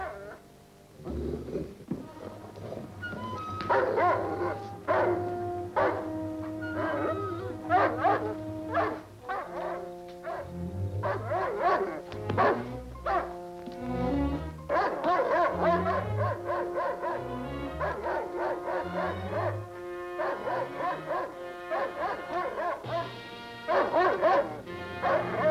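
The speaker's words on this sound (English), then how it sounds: "That dog don't sound very friendly." Dog in a 1944 western film barks repeatedly in loud, irregular bursts, mixing harsh barks with high whimpers and yips over a long stretch, close and dominant throughout.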